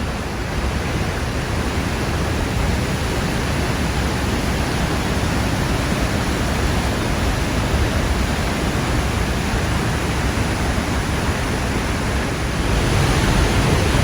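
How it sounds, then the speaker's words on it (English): A waterfall in Switzerland's Lauterbrunnen valley roars as a constant, dense broadband rush of falling water, loud and close, unbroken from start to finish with no voices. "we've never seen a waterfall like this."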